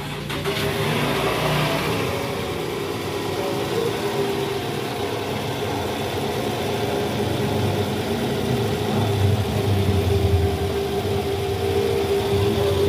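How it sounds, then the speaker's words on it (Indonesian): A Toyota 2AZ engine in a 2009 Vellfire, freshly fitted with a new balancer shaft, idles steadily and close by, a continuous even hum with a low throb and no noticeable revving, without speech. "Sekarang kita hidupin lagi mesinnya, kita cek ulang suara mesinnya guys."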